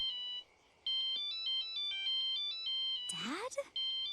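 Phone ringtone chiming in a repeated electronic pattern, with a voice breaking in briefly before the ringing resumes.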